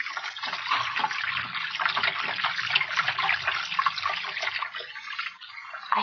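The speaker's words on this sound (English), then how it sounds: "Water over my head. Filthy water." Radio-drama effect of filthy water sloshing and gurgling, a continuous loud churning wash with bubbling and splashing that rolls on steadily and dips briefly near the end, with no voices over it.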